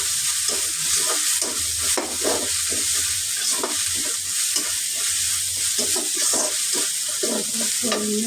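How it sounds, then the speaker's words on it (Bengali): Garlic paste sizzles steadily in a frying pan while being stirred, with repeated scraping strokes over a constant hiss and no voices. "রসুন বাটা দিয়ে দেবো। আর একটু নাড়াচাড়া করে নেব।"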